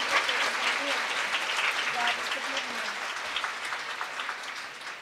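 Audience at a lecture on peaceful Korean unification claps in a dense, steady round of applause that fills the hall at even loudness, with faint voices mixed underneath.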